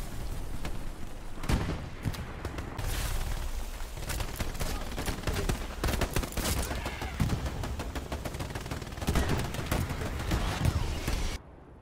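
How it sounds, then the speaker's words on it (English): In the WWII game Hell Let Loose, an anti-tank gun fires amid a continuous battle din of loud overlapping gunshots, machine-gun bursts and heavy booms. The firing runs steadily throughout, close and dense. "The AT gun shooting at him."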